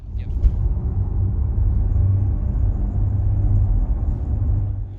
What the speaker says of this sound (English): The car is already running because we are also running a bit late